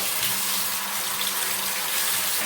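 Tap water runs steadily while window blinds are washed at a sink, a continuous close hiss with no voices over it.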